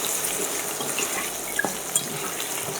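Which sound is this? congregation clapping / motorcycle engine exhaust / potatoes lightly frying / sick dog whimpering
potatoes lightly frying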